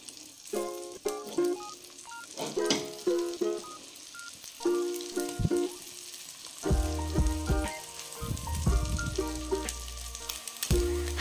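Chicken sausages fry in melted butter in a pan with a continuous crackling sizzle, laid under bright tonal, music-like sounds that come and go throughout.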